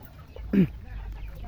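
A single short cluck from a chicken, fairly close, over a low background rumble.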